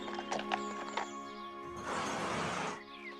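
Donkey hooves clip-clopping on a path during a journey, a few distinct close hoof knocks early on followed by a broader rustling burst, with a steady musical drone running underneath throughout.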